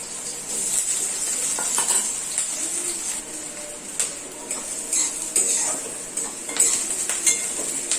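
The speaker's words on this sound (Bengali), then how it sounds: "পেঁয়াজ আর রসুনটাকে আমি একটু হালকা করে ভেজে নিচ্ছি" Chopped onion and garlic fry lightly in a pan, giving a soft, steady sizzle with occasional clinks and scrapes of a utensil against the pan, close and fairly quiet.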